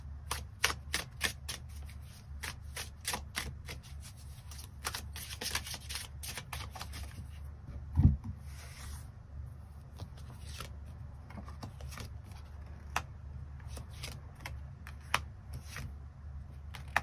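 Tarot cards are shuffled and drawn from a deck, producing a steady run of quick, close papery flicks and snaps with one heavier tap midway, quiet and without talk.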